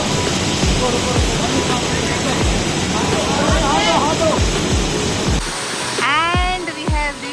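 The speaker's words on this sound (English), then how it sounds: "And we have reached this wonderful, beautiful waterfall." A waterfall reached on a rock-climbing trek fills the scene with a steady, loud roaring rush of falling water, while voices talk over the constant noise toward the end.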